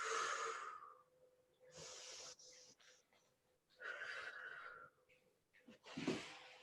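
Slow, deep breathing while resting in a backbend yoga pose: long airy inhales and exhales alternating in a steady rhythm, close and fairly loud, with no talk.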